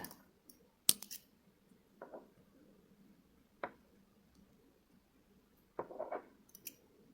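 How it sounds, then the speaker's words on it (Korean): Small scissors snip the leftover thread of a beaded bracelet in a few quiet, sharp clicks spread across an otherwise near-silent room. "그리고 바짝 당겨서 나머지 실을 잘라줍니다."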